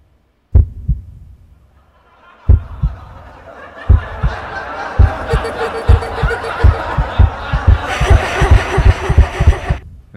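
Cinematic heartbeat sound effect, deep thumping beats that start sparse and quicken, layered under rising eerie laughter and a swelling dramatic texture.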